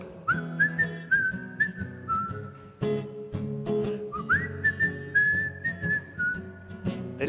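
A person whistles a lilting melody in several sliding phrases, close and clear, with no talking over it, during a church Facebook Live session.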